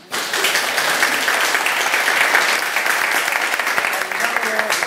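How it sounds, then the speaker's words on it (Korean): Sustained applause from an audience at a university career talk, steady and dense throughout, with a few voices faintly mixed in beneath the clapping. "오늘 시간 내주신 그 교수님들께 한 번 더 박수"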